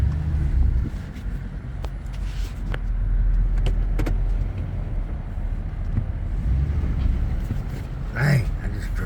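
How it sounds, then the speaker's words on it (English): A vehicle rolls over rough, hard ground at a future truck-lines lot near an excavator, a low steady rumble with creaks and knocks from the cab and a heavier jolt near the end, as a voice talks over it. "I just drove off in a hole"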